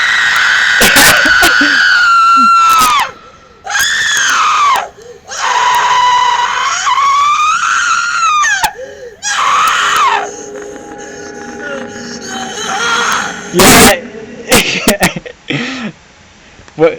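A Spirit Halloween animatronic lets out loud, drawn-out electronic screams and wails in repeated bursts, with shrieking pitch slides broken by short gaps.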